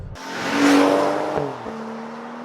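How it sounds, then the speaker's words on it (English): A 2012 Mazda 3 Skyactiv car drives and accelerates, its engine note rising to a peak then easing off with tire and road noise, close and fairly loud with no speech. "we're driving my 2012 Mazda 3"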